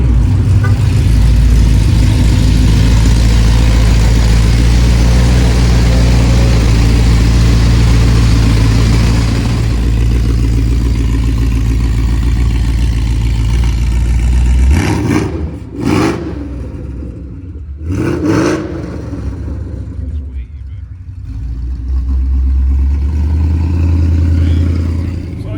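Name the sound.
Ford Mustang 5.0 engine revving with new mufflers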